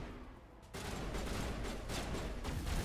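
Sustained automatic gunfire in the video game Mass Effect bursts in abruptly after a quiet moment, continuing as dense rapid volleys with distinct louder shots toward the end.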